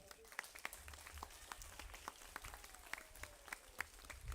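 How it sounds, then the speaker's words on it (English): Faint applause from an audience at a kindergarten graduation ceremony, scattered claps with a few sharper distinct hits, low and steady throughout with a background murmur. "Give her a big clap."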